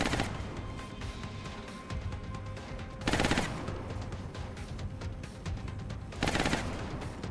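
Sustained suppressing machine gun fire in XCOM: Enemy Unknown, with dense, steady rattling bursts that swell louder at intervals over a constant background.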